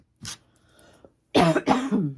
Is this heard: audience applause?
no